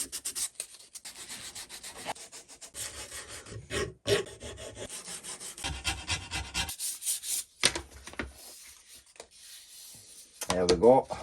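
Wooden push sticks are hand sanded, giving steady back-and-forth rasping strokes in irregular bursts with short pauses, close and moderately loud with no talk.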